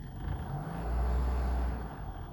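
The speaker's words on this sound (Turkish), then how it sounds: "Hafif gaz verdiğimiz zaman sesini" A 1977 Ford Taunus 1.6 GL engine hums steadily and rises briefly with a light rev, a low, smooth idle close by.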